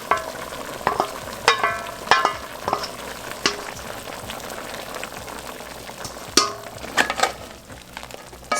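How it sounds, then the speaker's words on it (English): Noodles stirred into a pan of Dungeness crab and shrimp scampi sauce: a steady sizzle and bubble with repeated close scraping and clinking stirs of a utensil against the pan. "Stir in the noodles."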